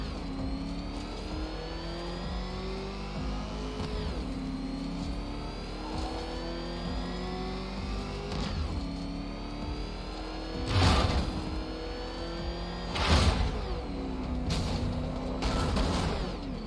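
A car engine revving and accelerating in Batman: Arkham Knight, rising in pitch in repeated sweeps over about sixteen seconds, with a few louder bursts of crashing noise near the end.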